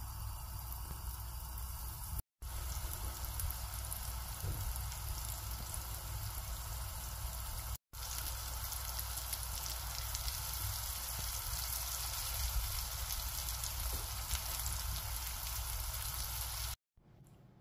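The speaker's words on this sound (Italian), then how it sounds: "Una volta che l'olio è caldo, mettiamo a friggere le nostre polpette." Bean meatballs fry in hot oil, giving a steady, dense sizzle and crackle close by, broken only by a few brief cuts of silence and with no voices.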